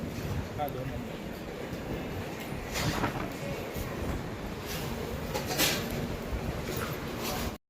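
A train runs along a Mumbai station platform in a steady, continuous rumble with faint rail clatter and a few brighter squeals. Voices murmur underneath until the sound cuts off sharply at the end.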